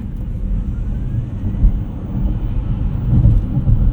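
A 2024 Ford Mach-E Rally electric car slows down on a street under regenerative braking, giving a steady low road and cabin rumble that swells slightly toward the end, with no voices.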